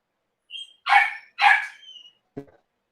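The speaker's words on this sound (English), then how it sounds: "Oh, this dog, man." A dog barks three times in quick succession, fairly close and clear, with a short yip before and a softer clipped bark after, set against an otherwise silent background.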